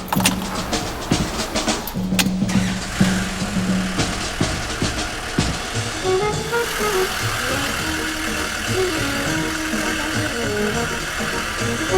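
A 1967 Mercedes-Benz 200D's 2.0-liter diesel engine runs steadily with a rough, clattering idle and some knocking, sustained throughout at close range.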